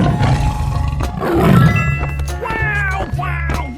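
A tiger roars in a 3D animal slide video game: a loud, rough, sustained growl swells and fades, followed by bright chiming game jingles over a steady low background drone.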